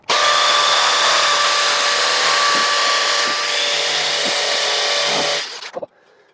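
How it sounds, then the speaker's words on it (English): A loud hammer drill grinds continuously into concrete for about five seconds with a rhythmic pulsing, then stops abruptly, followed by brief clatter. "A hammer drill makes this a lot easier."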